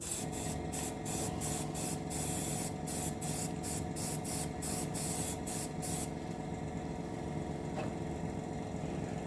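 A paint spray gun misting paint onto an HMS Queen Elizabeth model ship, spraying in rapid on-off hissing bursts for several seconds over a steady compressor-like drone that continues alone once the spraying stops.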